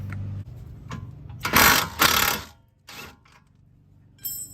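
A 16 mm socket ratchet loosens the rear strut mount nut on a GTI, heard as short bursts of rapid clicking ratchet noise separated by quiet gaps, close by.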